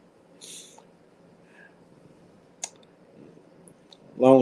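A few sparse, crisp keyboard clicks sound close by in a quiet room, and a voice begins at the very end.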